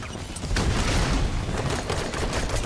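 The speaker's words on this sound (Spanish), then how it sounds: "Explota." Loud rumbling blast and crackle of battlefield fire in Call of Duty Warzone, a dense, sustained roar after a brief quieter start, with scattered gunshots layered throughout.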